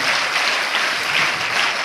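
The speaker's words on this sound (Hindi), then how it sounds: "जोरदार ताली बजाकर सबका स्वागत कीजिए।" A school crowd claps to welcome officials onto the stage, a loud, close, sustained round of applause with no talking.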